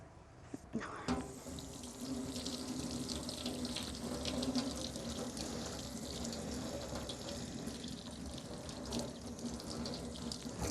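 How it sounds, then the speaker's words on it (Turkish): A kitchen tap runs steadily into a sink while hands are washed, a soft continuous splashing stream after a brief clatter at the start, fairly quiet and close, with no talk. "Hemen elimi şöyle güzelce bir yıkayayım."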